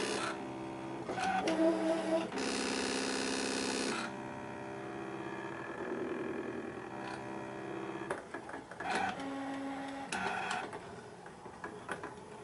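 An electronic craft cutting machine cutting a Christmas design on half-cut at pressure 7, with whirring carriage moves and motor buzzes in stop-start bursts, some longer steady runs and brief pauses, close and fairly quiet.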